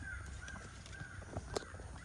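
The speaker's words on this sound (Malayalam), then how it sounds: "ഒരു കാക്ക പെട്ടിരിക്കുക" A crow tangled in a net caws faintly a couple of times, the brief harsh calls sitting low against a steady outdoor background hiss in the morning.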